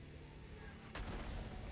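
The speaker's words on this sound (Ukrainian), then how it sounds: "в нас знову арта. Сипле." In the World of Tanks game, an artillery shell lands with one sudden, heavy boom and a rumbling tail that cuts through the steady engine drone.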